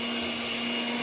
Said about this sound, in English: So we're going to use the mixer now. We just want to mix it.